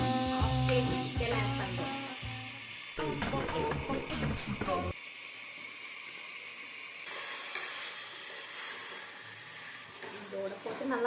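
Chicken sautés in a pan for biryani with a steady sizzle and frying hiss, punctuated by scraping and stirring strokes, while someone talks over it intermittently.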